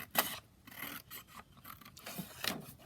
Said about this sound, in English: So I'm just going to cut down,